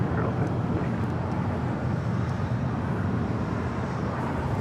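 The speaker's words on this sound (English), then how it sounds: "This flight coming in from Guatemala City. Delta Airlines Flight 1903 and a 757-200." A Delta Airlines Boeing 757-200 arrives at LAX with a broad, steady jet roar that stays loud and constant throughout, and no clear voices over it.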